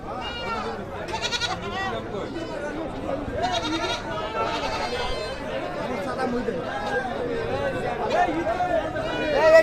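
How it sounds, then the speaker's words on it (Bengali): Goats bleating at a busy open-air goat market, repeated cries rising over a steady din of crowd chatter and voices nearby. "ছাগল ভেবাচ্ছে।"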